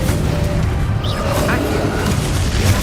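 Confringo spell blast in Hogwarts Legacy on PC: a heavy booming burst inside a thick, continuous wash of magical rumble and game noise, with a voice briefly present.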